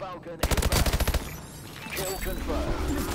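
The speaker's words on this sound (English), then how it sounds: "I have to run away from that gunfight" Rapid automatic gunfire bursts during a firefight in Call of Duty: Advanced Warfare, a loud string of shots at the start followed by scattered weapon noise and game sounds mixed with a voice.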